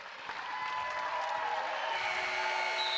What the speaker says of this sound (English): Crowd reacts and appreciates the performance by the Portland Pilots, one of the best of the year.